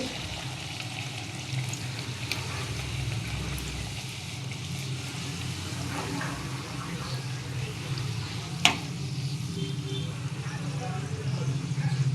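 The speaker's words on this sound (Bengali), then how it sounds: "এরকম করে লুচিগুলোকে ভেজে নেব" Luchi, puffed flatbread, frying in hot oil as a steady broadband sizzle that runs the whole time, with a few faint clinks of the utensil and one short sharp knock near the end.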